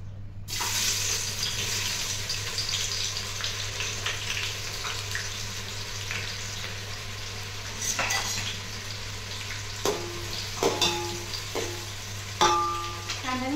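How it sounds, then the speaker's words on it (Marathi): Onions frying in a pot of oil for a chicken biryani give a steady, close, crackling sizzle throughout, with occasional metal utensil clinks and scrapes from stirring near the end. "पहिल्यांदा कांदा तळून दिला"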